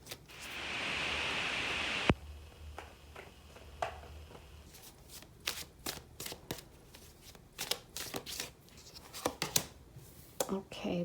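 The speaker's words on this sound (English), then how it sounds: "Give these a shuffle." Tarot cards shuffled by hand: a dense riffle of card noise at the start, then many crisp slaps and flicks as the deck is cut and shuffled, close up.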